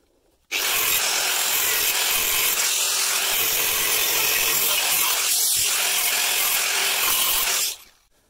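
An angle grinder cuts through metal pipe with a loud, steady, harsh grinding roar that runs for several seconds, starting and stopping abruptly.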